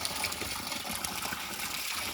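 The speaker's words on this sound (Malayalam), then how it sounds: "അപ്പോൾ ഇതിലുള്ള വെള്ളം പോകാൻ വേണ്ടിയിട്ട് പൈപ്പ് ഇട്ട് വെച്ചേക്കാം കേട്ടോ" Water runs out of a pond through a pipe, a continuous steady gush and hiss of flow with no break and no voices.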